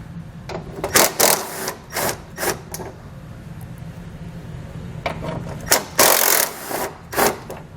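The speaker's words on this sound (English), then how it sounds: "We'll then remove our center bolt here with a 10mm socket. And then both the side ones there with our 8mm socket." A ratchet with 10 mm and 8 mm sockets backs bolts out of a 2012 Ford F-150 during a base plate install: loud, close bursts of rapid clicking come in two clusters with a quiet gap between.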